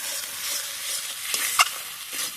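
Spice masala with Kashmiri red chili powder frying in oil in a pan, a quiet steady sizzle with a few light scrapes and one bright clink of the stirring spoon.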